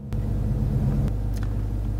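A 2016 Chrysler 300 SRT8 V8 engine idling after a push-button start, a steady deep rumble close by with no voices.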